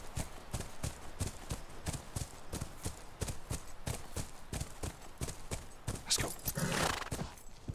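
A horse in the video game The Last of Us trots with steady, rhythmic hoof clip-clops, close and clear, then gives a loud whinny near the end.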